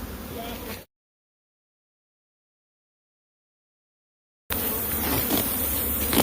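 Bees buzzing in a steady, close drone, cut by a long stretch of complete silence before the buzzing returns just as dense.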